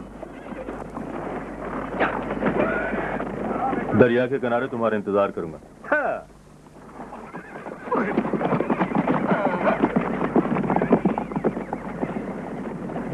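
In an old Urdu film scene, hooves clatter steadily as a horse neighs loudly in a rising, wavering whinny, with a voice speaking over the hoofbeats.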